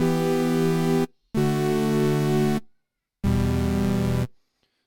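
Three sustained FM synth tones from Ableton Operator, bright and buzzy with a rich metallic timbre, each held for about a second and separated by short silences.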